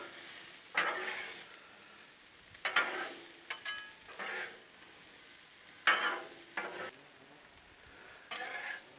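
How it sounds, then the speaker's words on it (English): Jalapenos and peppers stirred on a Blackstone griddle, several bursts of spatula scraping and soft sizzle with quiet gaps between them, fairly faint and close. "I'm gonna stir our peppers here up with just a hair."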